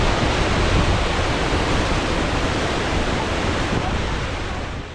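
Glacier meltwater stream thick with mud and rocks rushes loudly and continuously close by, a dense roaring wash that barely changes over the whole stretch.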